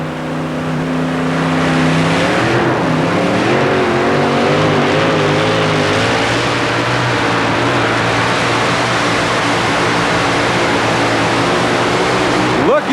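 A 4WD pulling truck engine roars loudly and continuously during a full pull at Tampa Stadium in 1991, revving up in the first seconds and then holding a strained, steady blare.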